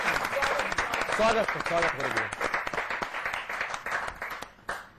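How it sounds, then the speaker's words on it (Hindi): An audience at a Hindi poetry gathering breaks into steady applause for a guest, dense clapping throughout while someone speaks a word of welcome over it. "एक बार जोरदार ताली"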